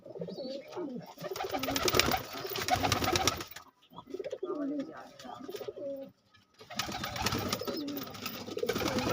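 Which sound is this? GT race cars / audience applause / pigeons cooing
pigeons cooing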